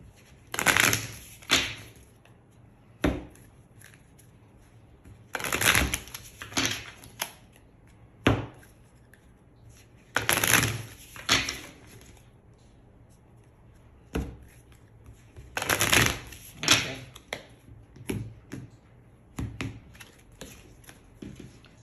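Tarot cards shuffled by hand in bursts of rapid riffling and soft slaps, several rounds separated by short pauses, close and fairly quiet with no talking.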